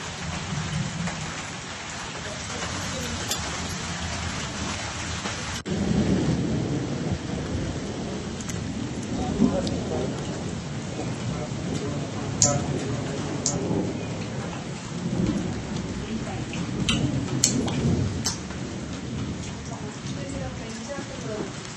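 Heavy wind-driven rain pounds down during a thunderstorm in Chikkamagaluru, a dense, loud, unbroken roar of downpour with deep thunder rumbling beneath it throughout.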